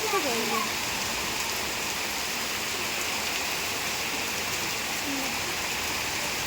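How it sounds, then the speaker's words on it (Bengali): Dense, steady roar of heavy rain pouring down nearby, a constant hiss with a brief faint voice at the start. "এই দেখো ভীষণ পরিমাণে বৃষ্টি হচ্ছে"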